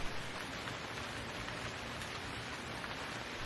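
Rain falling at night on a quiet country lane, a steady, soft wash of droplets pattering on the road, even and unbroken, with no voices.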